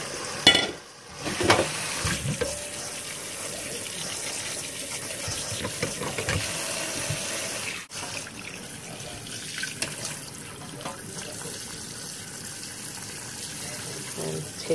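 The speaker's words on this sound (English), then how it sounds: "So after your saltfish is cooked, we're gonna run some cold water on it." Cold tap water runs steadily over cooked saltfish in a kitchen sink, a continuous broadband splash with brief handling bumps, lasting throughout at moderate level.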